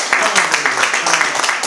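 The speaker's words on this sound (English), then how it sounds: "Let's give David a round of applause" Audience applause welcoming a speaker at the East Africa Forum UK 2018 event, a steady dense patter of many hands clapping throughout, moderately loud with no voices over it.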